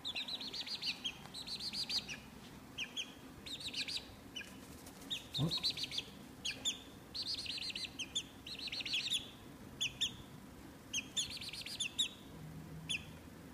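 A moulting chick cheeps in rapid, high, bright bursts that come in quick clusters across the whole stretch. It sounds close by, with a short human murmur partway through.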